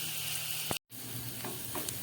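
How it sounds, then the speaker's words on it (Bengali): Onion and garlic fry in oil in a pan for a fish-head cabbage dish, a close, bright sizzle broken by a brief dropout, with a few soft clicks of stirring. "আমার পেঁয়াজ রসুনটা ভাজা হয়ে গেছে"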